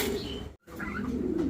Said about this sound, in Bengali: এখানে দেখতে পাচ্ছেন 2 জোড়া আর্সেঞ্জেল কবুতর, হোয়াইট টপ আর্সেঞ্জেল